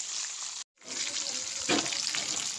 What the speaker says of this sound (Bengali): এটা আলাদা মাংসটা ভাজা হবে